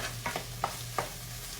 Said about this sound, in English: I'm just going to let this saute around, y'all, for another minute or so